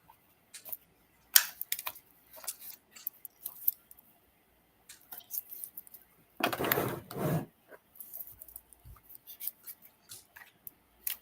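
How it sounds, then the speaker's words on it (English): Tarot cards being shuffled by hand at a table: a series of soft, scattered card flicks and taps, then a longer riffling burst in the middle, followed by more light, intermittent card handling. "And I'll shuffle up my cards here."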